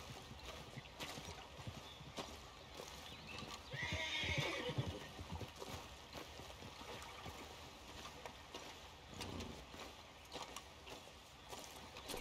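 Horse ridden in Red Dead Redemption 2, hooves clip-clopping steadily with a whinny and neigh midway, set against an outdoor wash of flowing water.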